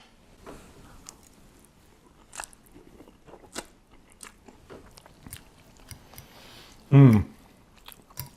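Soft, sparse chewing and biting clicks from a mouthful of Nissin Geki Spicy Hot Chicken Ramen eaten without hot sauce, faint and close, with a short spoken word near the end.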